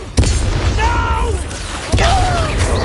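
Two heavy booming blasts from an explosive spell in the Hogwarts Legacy game strike near and loud, with game voices and effects sounding between them.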